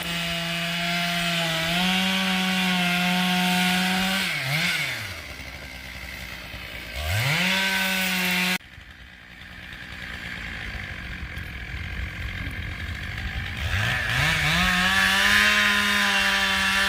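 A chainsaw cutting down a fairly large standing tree, the engine droning steadily then dropping and revving back up in two strong surges, close and loud, with no talking.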